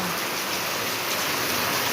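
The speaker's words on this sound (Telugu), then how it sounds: "ఇదిగోండి వాన వస్తుంది చూసారా?" Heavy rain pours down in a village, a dense, steady hiss of drops drumming on surfaces, close and unbroken throughout with no other sounds standing out.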